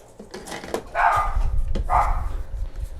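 Dogs being walked by passersby bark outside, several sharp barks in two bursts over a low rumbling background, fairly loud and near, with faint indoor clatter.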